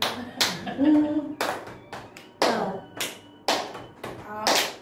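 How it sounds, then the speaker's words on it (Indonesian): A group claps a rhythmic Scout-style pattern (tepuk pramuka), sharp bursts of hand claps falling in repeating beats with short pauses, and voices faintly heard between them. "Tepuk pramuka abal-abal."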